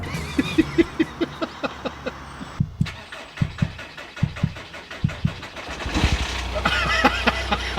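A car running on chip fat oil is cranked from cold after a dose of starting spray: a run of rapid, even starter-motor pulses, a brief pause, more cranking, then the engine catches and settles into a rough idle.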